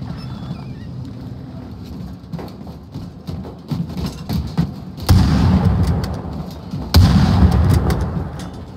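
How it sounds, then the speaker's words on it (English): Precision airstrike explosions in Call of Duty Warzone Resurgence crash in amid steady battle noise, with two loud, heavy booming blasts a couple of seconds apart followed by rumbling decay. "Precision airstrike"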